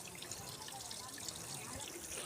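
Water fed from a channel gushes steadily through a pipe outdoors among plants, a constant close trickling rush with no pauses.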